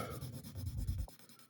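A pencil drawing Elastigirl is shaded with the side of the lead on paper: quick rhythmic scratchy strokes for about a second, close and soft, then a pause with faint taps.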